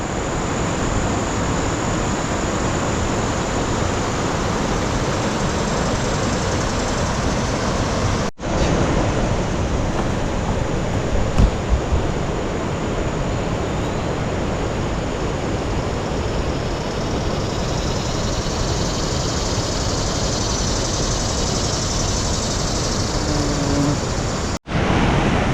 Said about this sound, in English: The falls is right in front of us here.